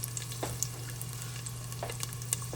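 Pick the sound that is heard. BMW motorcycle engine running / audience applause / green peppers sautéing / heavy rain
green peppers sautéing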